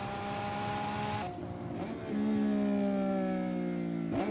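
A Lamborghini Revuelto's new V12 engine sings loudly and steadily, its tone dipping briefly and then rising into a sustained, climbing crescendo.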